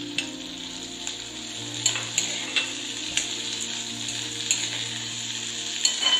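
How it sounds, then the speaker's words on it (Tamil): Ginger, garlic and small shallots sautéing in a pan for mutton kuzhambu, a steady close sizzle broken by regular scraping stirs of a spoon against the pan. "இஞ்சி பூண்டு வதங்கிட்டு இருக்கும் போது இதில் 20-25 சின்ன வெங்காயத்தை சேர்த்துக்கலாம்"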